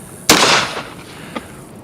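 A single sharp, loud gunshot from an Uberti Schofield .45 Colt single-action revolver fired outdoors at a tree, cracking suddenly and then ringing out, with a faint shorter report or echo following a moment later.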